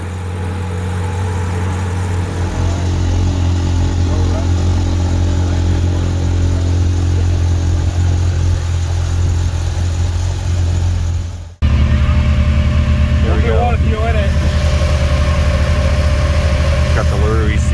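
A 2022 Can-Am Maverick X3 RR side-by-side with a LaRue ECU runs in snow, its engine droning steadily and loud up close, then cutting out briefly and returning at a higher, rougher idle, with a voice talking faintly in the background.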